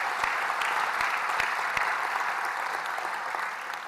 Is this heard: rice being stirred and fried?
no